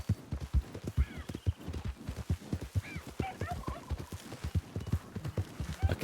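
Horses in Red Dead Redemption 2 clop along in a steady, close hoofbeat rhythm, with a few short whinnies and snorts rising over the footfalls.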